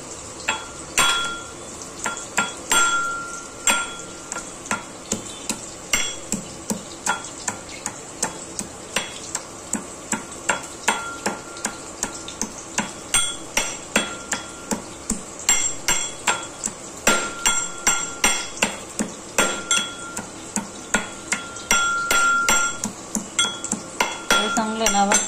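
Ginger and garlic being crushed by hand in a home kitchen: a brisk, steady series of sharp pounding knocks, close and fairly loud, repeating with slight pauses throughout.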